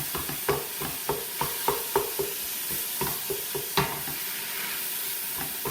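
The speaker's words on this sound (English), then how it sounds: "the beef is browning up nicely" Ground beef browning with spices in a pan: a steady sizzle and frying hiss, broken by a string of irregular scraping stirs, close and moderately quiet.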